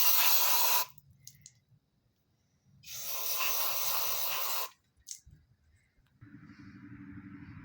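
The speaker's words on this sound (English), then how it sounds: "get rid of that with some brake cleaner here" Brake cleaner sprays in two loud, hissing bursts onto a Ford window motor, each lasting about one to two seconds, with quiet handling noises between them and a low hum near the end.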